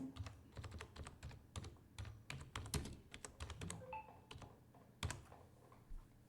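Typing on a computer keyboard to enter a label: a steady patter of close, light key clicks in irregular bursts with a couple of heavier taps, quiet and alone.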